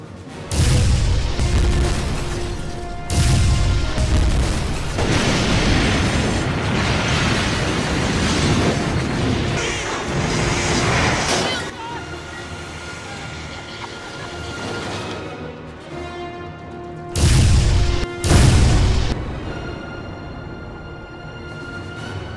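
Sci-fi starship weapons fire and booming explosions in a staged Klingon battle at a convention, loud sustained rumbling blasts with a lull, then two sharp heavy bursts near the end.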